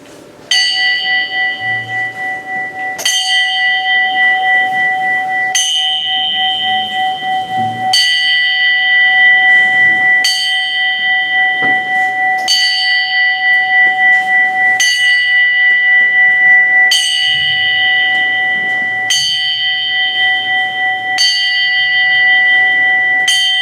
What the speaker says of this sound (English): we're going to ring this bell 11 times alternately